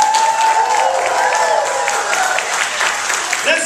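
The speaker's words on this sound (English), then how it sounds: "Let's see if we can have a round of applause from everyone." A Christmas a cappella concert audience breaks into continuous, loud applause, a thick sustained patter of many hands with faint cheering mixed in.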